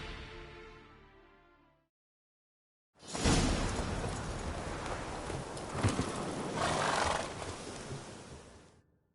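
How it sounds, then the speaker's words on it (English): Roach, Geralt's horse in Witcher 3: Hearts of Stone, spooked by ghosts, gives a loud, broad whinny with snorting and stamping that carries on for about six seconds after a short silence. "Spooking my horse. Roach doesn't like ghosts."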